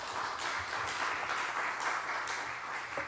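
An audience at a church invitation gathering claps continuously to welcome a speaker, a dense, steady wash of applause filling the room without pause and no talking over it.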